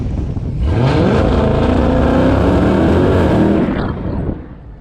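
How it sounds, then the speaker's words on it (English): A 1000 horsepower Dodge Hellcat launches at full throttle, its engine roaring loud and close with a rising growl through the gears for about three seconds before backing off. "I'm just gonna nail it to show you the power"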